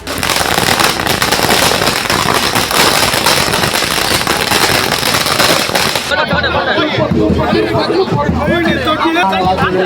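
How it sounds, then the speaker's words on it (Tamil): Firecrackers burst in a dense, continuous rapid crackle at a street welcome for an election candidate, loud and near, then give way to a noisy crowd chattering and cheering. "வாக்கு சேகரிக்க வந்த திரு ஆபா செழியனுக்கு பட்டாசு வெடித்தும் மாலை அணிவித்தும் ஆரத்தி எடுத்தும் மக்கள் உற்சாக வரவேற்பை அளித்தனர்"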